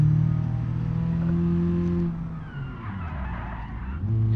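In a driving video game, a Lada 2102's engine hum drops as the brakes lock and tires skid and squeal, a short screech lasting a couple of seconds before the motor picks up again.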